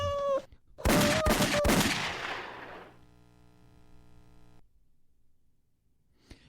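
A short cat meow at the start, then a loud burst of rapid sharp bangs like gunfire, fading into a low sustained hum and near silence.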